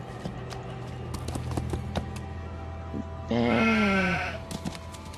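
Over a quiet background with scattered clicks and footsteps, a single video-game sheep bleats once, clear and fairly close, with a wavering tone.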